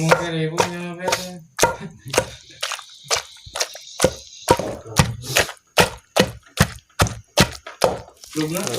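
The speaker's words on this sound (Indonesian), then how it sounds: "Terus ditumbuk biar halus." Spices pounded in a mortar, heard as a series of loud, regular thuds struck close by, with someone speaking briefly at the start.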